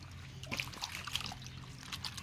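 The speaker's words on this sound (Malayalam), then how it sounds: "ഇറച്ചി ഇപ്പോൾ കഴുകാൻ പോവാണ്" Water runs in a thin, faint trickle from a tap while raw chicken meat is washed, with a steady pour and small splashes close by.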